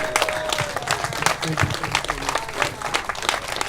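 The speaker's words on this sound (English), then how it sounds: "Let's give him a big round of applause." Applause from a meeting audience of a cannabis coalition, a dense patter of clapping close by with some voices and crowd murmur mixed in over a few seconds.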